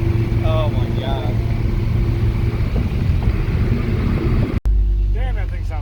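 A fully built, tuned Audi TT RS engine roars at high speed, a loud continuous rumbling drone with wind noise, while people talk over it before a brief cut.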